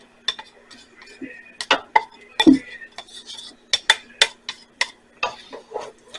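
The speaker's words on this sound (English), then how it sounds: "we're just going to stir all this together until it's all blended and the cheese is melted" Spoon scraping and clinking against a pot while stirring shredded cheddar cheese into potato soup, a series of irregular close metallic taps and scrapes with brief gaps.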